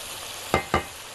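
Onions going into a hot pan with sausage for a shish pan dish, two quick loud sizzling bursts over a low steady frying hiss.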